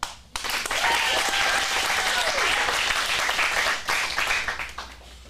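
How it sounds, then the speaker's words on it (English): Sustained applause from an acting studio audience at a teen script showcase in Phoenix, dense steady clapping that carries on throughout with a brief dip near the end. "Round of applause."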